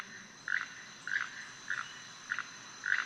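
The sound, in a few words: keel-billed toucan call, recording played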